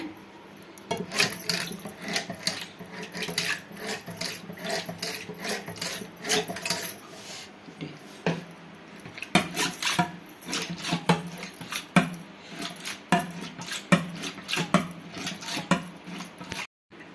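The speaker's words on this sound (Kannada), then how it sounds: "ಫಸ್ಟು ಮೊಸರನ್ನ ಸ್ವಲ್ಪ ಈ ಥರ ಕಡ್ಕೊಂಬಿಡೋಣ" Curd being churned into buttermilk for a Sri Rama Navami festival drink, heard as a rapid, close series of rhythmic clattering, swishing beats that runs steadily for about seventeen seconds with brief pauses, with no voices.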